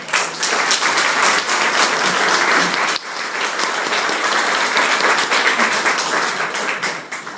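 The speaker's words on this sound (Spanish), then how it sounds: "Un aplauso para él." An audience at a lecture event applauds the speaker, Alberto Calderón, with dense, loud clapping that holds steady, dips briefly midway, then swells again before tapering near the end.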